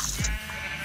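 A single short sheep bleat from Minecraft, a blocky sandbox video game, sounds briefly and clearly with no talking.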